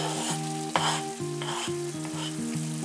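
Red spring onions sizzle in a hot pan for shepherd's pie, a steady frying crackle running throughout under tonal background music, with a brief louder burst near the start.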